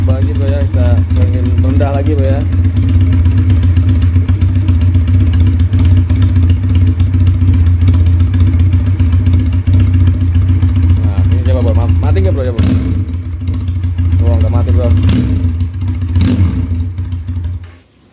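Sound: Benelli Patagonian Eagle 250 motorcycle engine idling during carburetor setting

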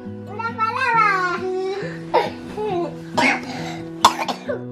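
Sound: child coughing

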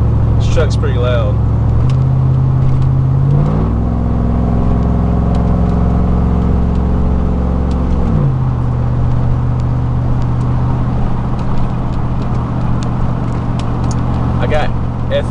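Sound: loud truck engine revving

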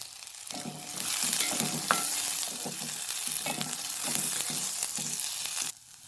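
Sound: sautéing copra with onion in a pan

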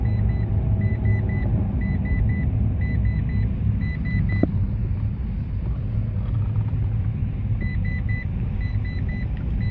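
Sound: car's seatbelt warning beeper

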